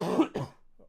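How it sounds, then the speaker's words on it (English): A person coughs twice into a microphone, close and fairly loud, a couple of short rough bursts followed by a faint trailing sound and then quiet. "I'm sorry if I coughed into your ears."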